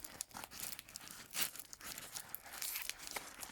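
Plastic packaging from a mail-order Hoya plant shipment tears and crinkles as it is unwrapped, in quick close bursts of ripping and rustling with a sharp louder tear in the middle.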